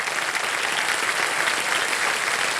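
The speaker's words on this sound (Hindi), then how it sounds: "जोरदार तालियां बज जाए पवित्रा जी के लिए।" Studio audience applause on the set of the quiz show Kaun Banega Crorepati, a dense, steady burst of clapping from the whole crowd lasting the full stretch, loud and close with no talk over it.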